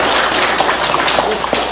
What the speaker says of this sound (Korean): 여러분들 박수 환영합니다